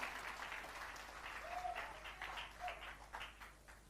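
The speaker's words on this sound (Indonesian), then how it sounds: "Tepuk tangan yang keras." A church congregation breaks into applause during a sermon, a steady wash of many hands clapping that swells and eases across the whole stretch, fairly faint and distant.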